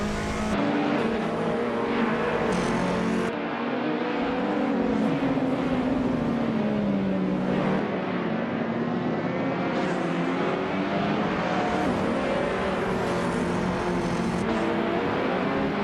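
Race car engines from a 2014 BMW M235 in iRacing drone steadily and loudly throughout, with pitch rising and falling as the cars rev through corners and straights.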